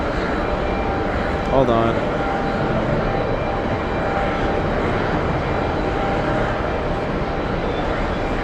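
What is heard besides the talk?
KLM jet aircraft taking off from the runway threshold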